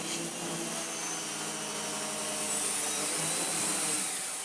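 A Miele Revolution Powerplus S5980 vacuum cleaner runs with a steady, loud motor whine and airflow roar that swells slightly toward the end, close by and alone.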